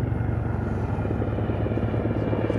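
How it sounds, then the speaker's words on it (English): A military helicopter flies at low level, its steady rotor thump and engine rumble loud and continuous throughout with no pauses. "Helicopter departs at low level to avoid any detection by the enemy."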